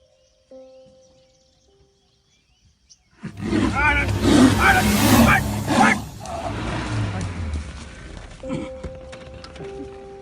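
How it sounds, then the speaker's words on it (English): A furious tiger charges toward a jeep, letting out a loud, close, rumbling roar that bursts in after a quiet start, holds for a few seconds, then tapers into lower growling and background noise. "The furious tiger charged toward the jeep and came a little too close for comfort."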